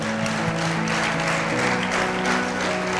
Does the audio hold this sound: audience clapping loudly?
yes